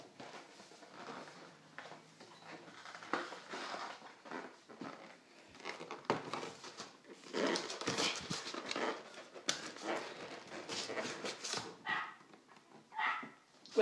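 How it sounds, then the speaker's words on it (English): A neighbouring dog barks and yaps off and on from next door, faint and indistinct under a steady mix of room clatter and noise. "that's next door's dog"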